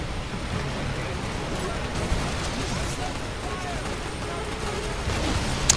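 Gunfire aimed at an enemy in the video game FEAR 3, a dense, noisy clatter of shots and bursts that runs through the whole stretch, with players talking over it.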